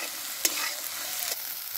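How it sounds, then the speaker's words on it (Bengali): Soybean chunks seasoned with salt and chilli powder stirred in a hot pan, a continuous close sizzle with two sharp scrapes of the spatula, no voices. "দিয়ে নেড়ে নেব।"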